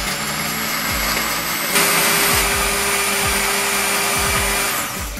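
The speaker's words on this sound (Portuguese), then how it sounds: "Fechamos o nosso liquidificador e vamos bater." A loud blender whirs steadily while blending pesto sauce, its motor pitch shifting slightly as it churns, running the whole time with a few low knocks underneath.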